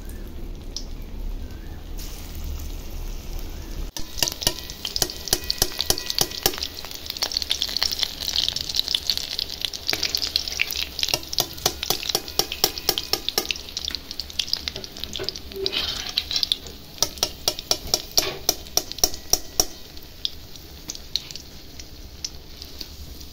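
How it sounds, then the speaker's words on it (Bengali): Jackfruit kofta balls fry in hot oil, a dense, crackling sizzle with sharp popping bursts that intensify and stay loud and close throughout. "বাকিগুলো এইভাবে ভেজে নেব।"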